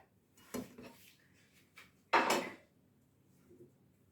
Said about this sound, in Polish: W garnku umieszczamy golonkę,